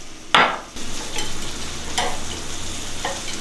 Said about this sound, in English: Our pan is nice and hot, so it's time to get our steak going.